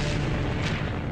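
A huge explosion aboard the battleship Yamato as it sinks, a dense, sustained roaring blast filling the whole short stretch at steady high loudness with no voices.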